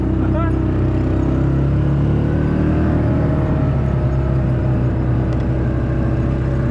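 A vehicle drives into a maple sugar bush, its engine giving a steady, close, low droning hum throughout with no break.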